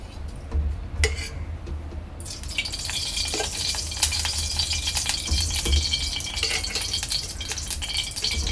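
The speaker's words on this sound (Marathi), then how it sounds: "इथे आपली कढई चांगली गरम झालेली आहे। यामध्ये मी 2 ते 3 पळ्या तेल टाकणार आहे।" Oil heats in a hot kadhai while preparing a dry fish dish, a quiet clink and rattle giving way to a continuous hissing sizzle that persists with faint scraping.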